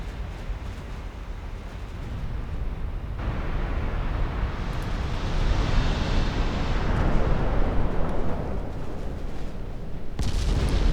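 Heavy naval gunfire from warships in a 1934 Italian fleet battle in Ultimate Admiral Dreadnoughts, a steady rumbling barrage of distant booming blasts that swells in the middle before a sharp cut near the end.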